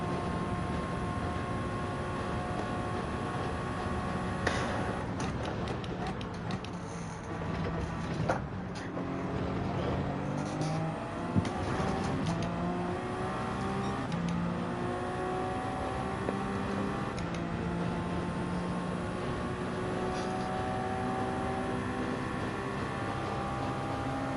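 Toyota GR010 race car engine in Gran Turismo 7 during Gr.1 lobby sprint racing, a steady high-revving whine that rises and drops with gear changes, continuous and fairly quiet, with other cars around it.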